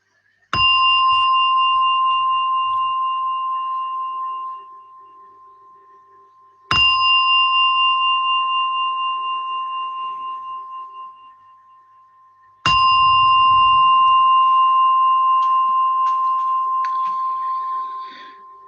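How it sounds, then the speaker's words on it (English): A meditation gong is struck three times at the end of a practice, each clear metallic ring sounding loud and close and then fading slowly before the next strike, with long resonant tails and no talking. "as you hear the gong, slowly come out from meditation"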